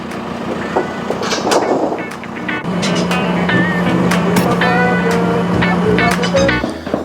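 A hired telehandler hums with a steady engine drone while lifting glulam beams up to a building's ridge, loud and close, with clanks and knocks from the load and a voice briefly heard.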